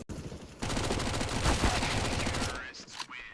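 An SMG fires a rapid sustained burst in Counter-Strike, a dense rattling stream of shots lasting about two seconds before it cuts off. Faint game sounds follow, and an excited commentator talks over it.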